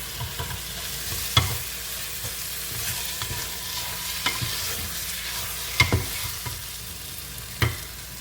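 Meat sizzling steadily in a pot while a utensil stirs it, giving occasional sharp scrapes and knocks against the sides.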